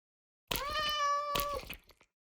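A Minecraft cat lets out a single long, strongly pitched meow, close and clear, ending in a brief softer tail with no talk over it.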